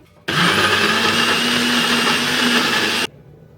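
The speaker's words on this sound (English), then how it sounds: "in my blender and I'm going to blend these up" A kitchen blender purees cheese, fresh tomatoes, basil and olive oil in one loud, steady whirring burst of about three seconds, starting and stopping abruptly.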